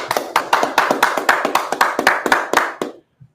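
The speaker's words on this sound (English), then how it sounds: "Let's clap it up for the Most High." A congregation at a Sabbath service claps in a quick rhythmic beat, about a dozen crisp near claps in steady time that stop abruptly into silence.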